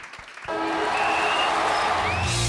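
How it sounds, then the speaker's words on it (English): A studio audience at a football variety show breaks into applause after a brief quiet start, the clapping steady and full for the remaining couple of seconds with no talk over it. "Just give us a round of applause for that."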